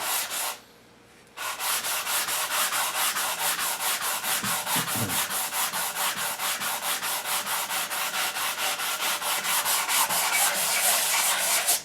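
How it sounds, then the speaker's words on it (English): Hand sanding an English walnut HW80 gunstock with 120 grit paper: steady, rapid back-and-forth rasping strokes, close and loud, after a brief pause near the start, with no talk. "All right, I'm going to sand for a minute or two."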